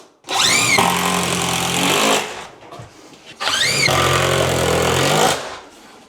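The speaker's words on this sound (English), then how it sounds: "we're just going to put in a few screws to anchor it to the wall" A power drill drives screws into wall studs to anchor base cabinets. It makes two loud, close bursts of about two seconds each, with the motor rising in pitch and then straining as the screws bite.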